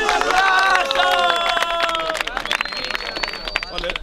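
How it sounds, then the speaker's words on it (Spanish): Audience at a rap battle bursting into loud clapping and cheering, a dense, continuous roar of applause with shouting voices on top that fades a little toward the end. "¡Un aplauso!"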